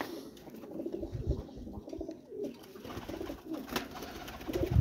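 Low, soft cooing of pigeons repeating intermittently, nearby but gentle, over a faint background hiss.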